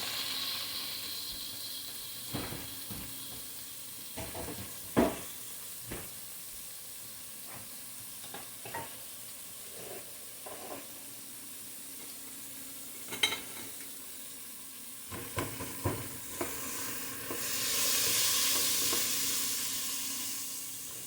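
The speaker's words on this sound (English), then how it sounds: "Gonna saute everything but the tomatoes." Eggplant and garlic sauteing in a pan give off a steady, close sizzle and hiss, broken by repeated scrapes and knocks of stirring, with no talking.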